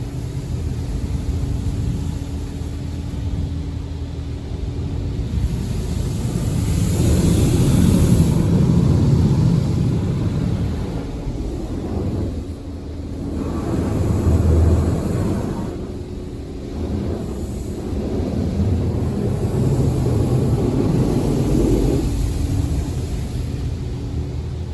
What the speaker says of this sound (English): Well, I guess we're getting a high power rinse now